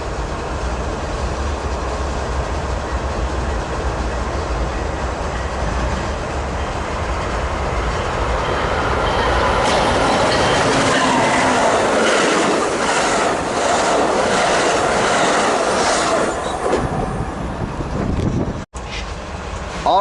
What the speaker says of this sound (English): here is 584 from LA to San Diego